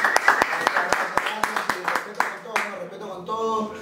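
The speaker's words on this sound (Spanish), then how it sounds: "Bueno, un aplauso para mi brother." Crisp, evenly spaced hand claps from a small group follow a call for applause during a rap artist interview, about a dozen sharp claps before fading into speech.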